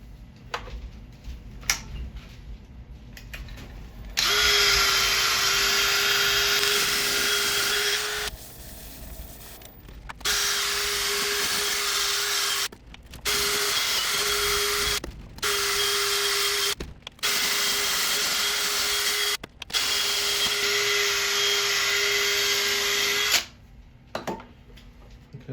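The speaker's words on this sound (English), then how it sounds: "I'll do the centre bit with the lathe spinning" A wood lathe spins a spalted elm burl, a loud steady whirring hum that starts and stops in repeated blocks of several seconds each, with short silent gaps between runs and faint ticking before it starts.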